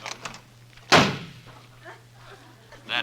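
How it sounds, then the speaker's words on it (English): A radio-show sound effect of a door slamming shut, one loud sharp bang with a brief rattling tail, preceded and followed by faint clicks and handling noise, with a constant low hum underneath. "That door slam wasn't Robert."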